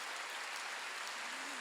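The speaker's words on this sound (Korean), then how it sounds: "여러분, 내가 구원받은 것이 은혜로 됐다고 믿는 사람 박수." A church congregation applauds during a Sunday worship service, giving a steady, even wash of clapping that sounds somewhat distant and fairly faint.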